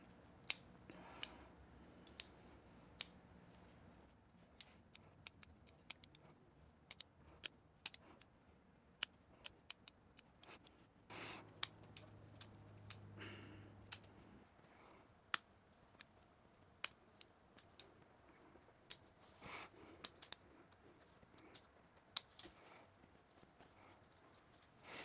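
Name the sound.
pruning shears trimming long shoots of a Chinese elm bonsai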